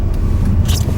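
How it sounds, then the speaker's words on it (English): Engine of a manual pickup truck on steel-studded snow tires, driving on snow and shifting into second gear: a loud, steady, close low rumble with a brief scraping rise near the end. "I shift quite quickly into second because I'm going to get more traction, even with my steel-studded snow tires on the truck"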